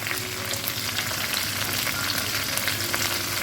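Mixed vegetables, including pointed gourd, stirred in a hot pan for a Bengali labra, a steady close sizzle with light scraping of the spoon throughout and no voices.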